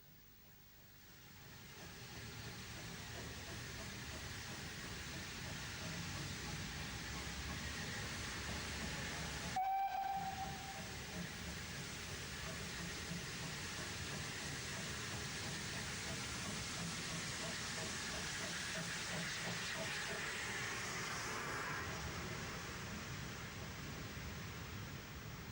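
A steam tank locomotive from Quainton works hard along a railway, its steady chuffing rumble and rolling wagon noise continuous throughout, with a short sharp whistle blast cutting in near the middle.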